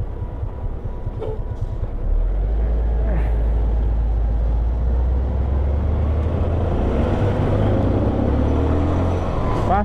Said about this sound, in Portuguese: Passar esse caminhão, né? Tampa toda a visão